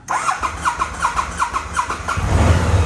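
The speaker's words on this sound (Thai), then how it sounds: "เดี๋ยวผมสตาร์ทให้ฟังเสียงเครื่องยนต์กัน" A BMW 650GT motorcycle engine cranks with a rapid repeating starter whir, then catches and settles into a low rumbling idle.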